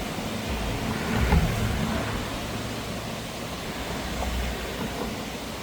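Loaded vehicle rolling across the Dhanghari bridge in the evening, heard as a steady broad road rumble with a brief low thump partway through, continuous and moderately near.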